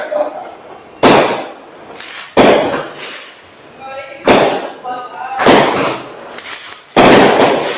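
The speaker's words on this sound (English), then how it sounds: "We're popping fireworks next to us, but it's a bit inconvenient." Fireworks set off nearby outdoors, five loud sharp bangs spaced about a second apart with crackling tails and a brief sputter between, loud and close, with voices in the background.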